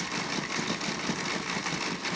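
Motorized TrackMaster toy train engines running on a super tower track, a steady faint mechanical whirr and rattle throughout with no pauses.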